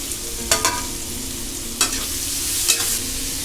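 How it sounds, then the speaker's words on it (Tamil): Chopped onions fry and sizzle in a pan for a green chicken curry, a constant close hiss broken by a few sharp scrapes of stirring. "நம்ம கட் பண்ணி வச்சுருக்க வெங்காயத்தை அதில் சேர்த்துக்கலாம். இப்போ வெங்காயம் வந்து நல்லா வதங்கணும்."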